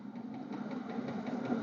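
Kerosene heater on a van, running as a low, steady mechanical hum with a faint rhythmic ticking, heard from a few feet away near the exhaust and fairly quiet.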